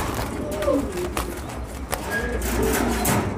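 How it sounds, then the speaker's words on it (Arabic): Pigeons coo in a wire cage during a sexing check, soft low burbling calls repeating close by over background rustle and faint voices. "فرد الحمام اهو"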